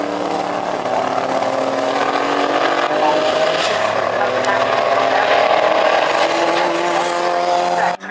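Racing car engines, including a flame-spitting Porsche, roar loudly and continuously during a Special Saloons and Modsports race at Oulton Park, with a pass that rises and falls and a commentator talking over the noise.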